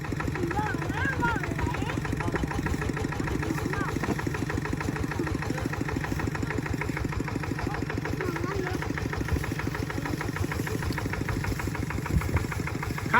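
A tractor engine idles with a steady, chugging rhythm throughout, close by, while people talk over it.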